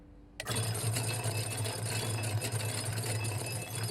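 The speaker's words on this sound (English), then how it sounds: "You know the sound of a fork in a garbage disposal?" A fork caught in a running garbage disposal, a loud sustained metallic grinding and rattling hum that starts abruptly after a brief quiet moment and continues steadily to the end.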